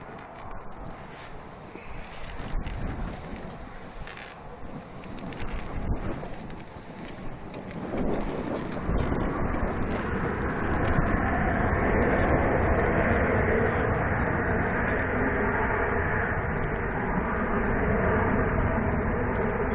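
A Ryanair airliner departs Manchester for Paris. Its engine roar builds from a quieter, uneven start into a loud, steady, broad rumble that fills the second half.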